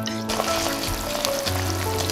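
Sliced garlic and thyme sizzle steadily in about four tablespoons of olive oil in a pan, a continuous close frying hiss with a low hum underneath.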